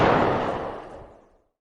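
A single heavy gunshot-like boom from an audio drama effect, loud at the start and fading through a reverberant tail over about a second and a half, with no follow-up detonations audible.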